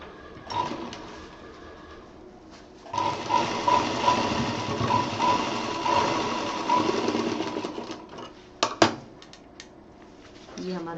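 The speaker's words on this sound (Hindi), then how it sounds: "ये इसको हम उलट के इसके ऊपर रख के सिल देंगे" A sewing machine stitches fabric pieces for a children's round bag, running in a steady whirring stretch with short pauses and a sharp clack near the end. Someone talks over it in Hindi.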